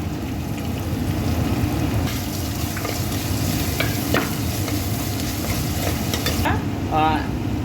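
Mustard seeds, fenugreek, curry leaves and dried chillies frying in hot oil, giving a steady loud sizzle with crackling pops and occasional stirring scrapes throughout.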